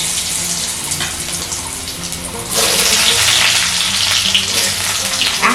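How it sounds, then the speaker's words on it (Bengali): Small pieces of a large potato fry in hot oil left over from frying chana dal dumplings; a close, loud hissing sizzle surges sharply halfway through and stays strong. "এখন এই আলুগুলোকেও একইভাবে গোল্ডেন ব্রাউন করে ভেজে নিতে হবে"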